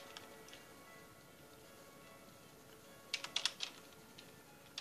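Keys on a computer keyboard tap quietly in a short burst of several quick clicks near the end, over a faint steady room hiss.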